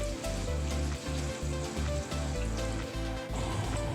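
Chicken kathi roll ingredients frying in mustard oil, a steady loud sizzle with pulsing crackle and bubbling throughout, close and continuous with no voices.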